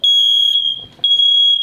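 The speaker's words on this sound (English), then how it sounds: "It does smoke and carbon monoxide. It alarms through the whole boat." A combined smoke and carbon monoxide alarm on a boat shrills loud and close, two sharp piercing high beeps with a brief gap between.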